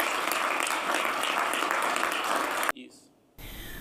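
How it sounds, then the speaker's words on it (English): An audience applauds at a noon news-update broadcast honouring Morocco as AFCON 2025 host, a steady dense wash of clapping for nearly three seconds before it cuts off abruptly into near silence, then a different room tone. "Can we clap hands for Morocco, please?"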